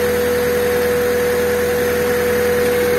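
A Honda Civic EG hatch with the D15B engine idles steadily during a coolant flush, a constant close humming drone with an even tone and no talking.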